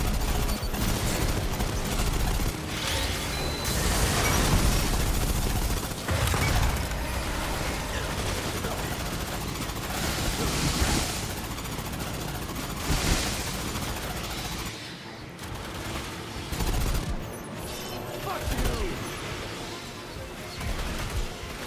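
Rapid bursts of automated turret gunfire and fusillades in the video game Aliens: Fireteam Elite 2, dense and loud, with booms and a brief quieter lull midway.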